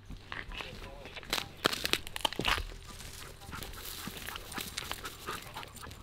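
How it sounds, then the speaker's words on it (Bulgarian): A hunting dog on a jackal hunt comes back through brush, with close rhythmic panting, rustling and crunching steps, while people talk nearby. "Май се връща кучето."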